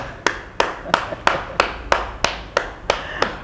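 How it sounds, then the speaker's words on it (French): A single person claps hands at a talk show, about ten sharp claps spaced in a slow, even rhythm, close and fairly quiet, with no talking. "Moi seul, je vous applaudis."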